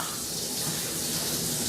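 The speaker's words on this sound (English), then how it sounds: "And then I'm gonna rinse it under cold water, really cold water." Cold tap water runs steadily over an onion in a kitchen sink, a brief, even splashing hiss heard alone at moderate volume.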